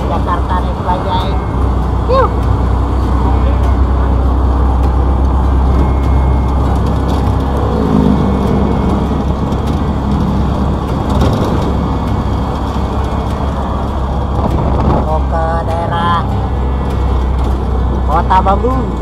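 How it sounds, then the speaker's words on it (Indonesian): A Bajaj auto rickshaw running on compressed natural gas rumbles steadily with a constant low engine drone through a crowded West Jakarta residential area, loud and close throughout, with a voice talking over the ride. "gue naik bajaj ini bro, BBG bahan bakar gas"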